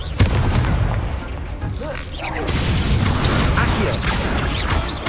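A Confringo fire spell in Hogwarts Legacy goes off in a loud, dense burst of booming, crackling blasts over a steady rumble of game noise, with faint voice fragments mixed in.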